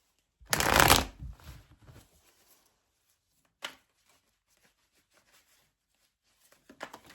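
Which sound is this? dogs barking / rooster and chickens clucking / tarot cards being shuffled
tarot cards being shuffled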